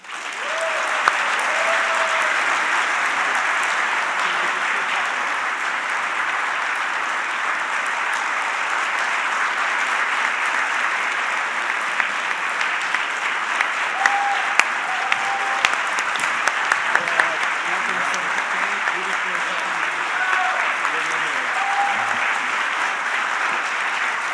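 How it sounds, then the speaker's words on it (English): Sustained audience applause at a computer science education conference, welcoming a speaker to the stage; dense, steady clapping from a large crowd continues throughout with a few sharper claps standing out near the end. "Thank you so much for this applause and for having me here today"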